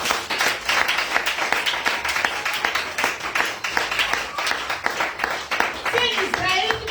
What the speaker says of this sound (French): Acclame-moi Jésus